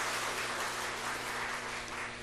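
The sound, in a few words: congregation applauding the choir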